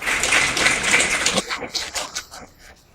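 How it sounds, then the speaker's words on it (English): Audience applause at the WPA Qatar Open 9-ball pool final: a dense burst of clapping that breaks off and trails into a few scattered, separate claps as it fades. "very appreciative audience there, giving them a well-deserved round of applause"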